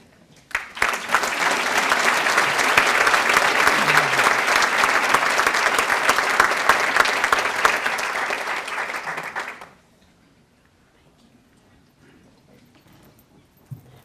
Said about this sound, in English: Your applause, please, for the Texas Tech Catholic Student Association